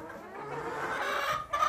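A Blue Colombian rooster crows loudly and close by, one strained, drawn-out call with no other sound around it.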